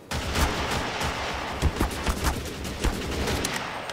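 Dense World War 2 battle gunfire in Garry's Mod, a continuous fusillade of rifle and machine-gun shots with sharper near bangs punching through a steady roar of distant firing, loud throughout.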